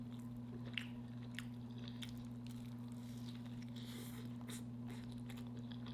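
A steak sandwich with pepper jack cheese being eaten, with faint, close, wet chewing and soft bites scattered over a steady low electrical hum, and no talk.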